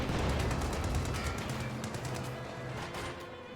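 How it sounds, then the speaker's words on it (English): Heavy machine gun fire from a Company of Heroes 2 battle, a dense continuous rattle of rapid bursts with explosions and battlefield noise mixed in, loud throughout and slowly easing off toward the end. "Heavy machine gun team ready for battle."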